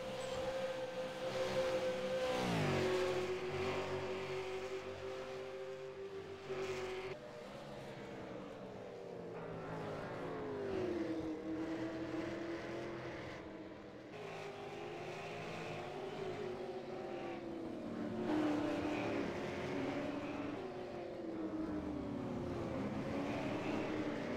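Race cars run a road course at Canadian Tire Motorsports Park, their engines droning with rising and falling pitch as they shift and jostle for position, sustained and fairly distant.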